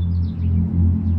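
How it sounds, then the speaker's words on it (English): Road traffic passing, a loud continuous low rumble of a vehicle going by close, with a faint high chirp above it. "Sorry about the traffic, guys."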